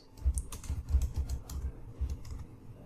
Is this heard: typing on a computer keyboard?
yes